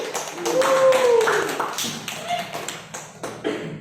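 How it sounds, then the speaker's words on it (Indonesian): Applause in a micro-teaching classroom evaluation session, a short burst of group hand clapping with overlapping voices and talk running through it. "Tepuk tangan untuk Mbak Ayu."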